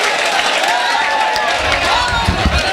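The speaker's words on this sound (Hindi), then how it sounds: "एक मरतबा सब मिलकर तालियां बजाएंगे, जोरदार तालियों के दरमियान भाई सुफियान काजी" An audience at a shayari poetry recital breaks into sustained applause and cheering, a dense, loud wash of clapping with crowd noise and voices mixed in throughout.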